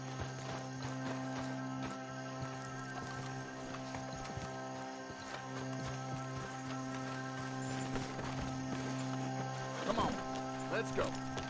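Horses' hooves drum steadily in a continuous galloping rhythm in Red Dead Online, under a humming background, with a brief whinny-like cry near the end.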